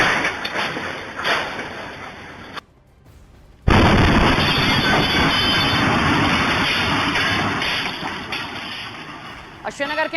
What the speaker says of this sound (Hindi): तभी ये ब्लास्ट हो जाता है, ये हादसा हुआ है।